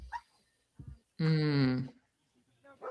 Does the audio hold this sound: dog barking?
yes